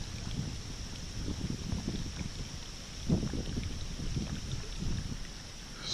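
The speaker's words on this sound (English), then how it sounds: "Wind is blowing us around." Steady wind buffeting a fishing boat on Loch Raven reservoir, a low rumbling gusty roar against the microphone with faint water lapping, continuous and fairly close.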